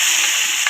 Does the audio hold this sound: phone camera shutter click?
no